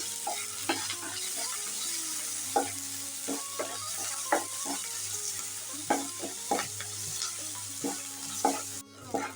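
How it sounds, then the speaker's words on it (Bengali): Onions sizzle in a pan while being stirred, with a steady frying hiss broken by repeated sharp scrapes and taps of a utensil against the pan at an irregular rhythm, close up and with no talking. "এখন ভালো করে পেঁয়াজটাকে ভেজে নেব নাড়ি চাড়িয়ে"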